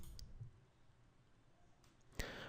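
A single computer mouse click on a save button, faint and sharp, heard against quiet room tone with a few other soft clicks.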